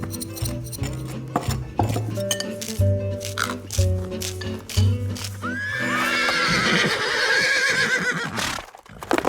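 A horse neighs and whinnies loudly in an animated scene, the long call rising over a steady background with clip-clop hooves earlier, standing alone without speech.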